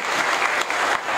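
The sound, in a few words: audience applause for the children's bhajan group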